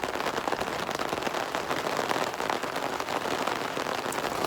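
Heavy rain pours steadily onto a rooftop tent on a Subaru Outback, a dense, constant close patter with no gaps, car camping in the White Mountains of Arizona.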